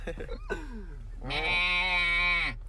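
A person mimics a sheep with a long, wavering nasal bleat held for about a second, after a bit of breathy talk and a short rising try at the call, close and loud.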